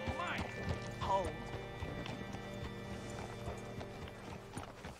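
Horse hooves clip-clop steadily nearby, with a brief whinny, in Red Dead Redemption 2, over a low background hum and faint other sounds.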